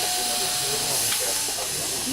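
A train in Japan rolls along with a steady loud hiss and rumble from inside the carriage, a faint tone running beneath it and some soft rattling throughout.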